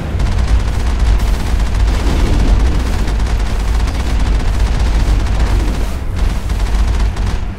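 Dense, continuous video-game gunfire from Mass Effect fills the scene, rapid overlapping shots and booms layered into a loud, unbroken barrage with no talking.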